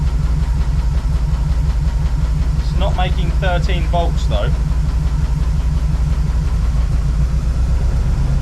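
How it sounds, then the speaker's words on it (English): After a cold start, a car engine idles with a steady low rumble throughout. A person speaks briefly over the engine partway through. "It started really, really well for a cold start, didn't it? It's idling."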